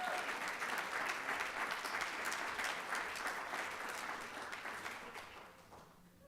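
Sustained applause from the audience at a school board meeting, steady and dense clapping that fades toward the end.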